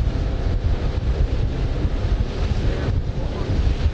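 Strong wind of about 20 to 25 miles an hour on a lake during a fishing trip, roaring steadily and loudly across the microphone with low buffeting gusts and possible wave wash, with no voices.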